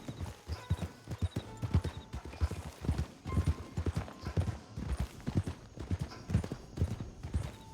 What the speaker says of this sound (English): All by his lonesome, that damn horse.